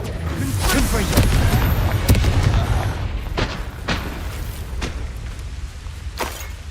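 Several booming fire-spell blasts in the video game Hogwarts Legacy, loud and close, in a rough series of sharp bursts with rumbling tails, the cluster thinning out toward the end.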